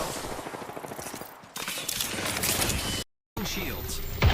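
Rapid gunfire from a video game rattles in quick bursts of shots, broken by a short silent gap, with a voice talking over the action.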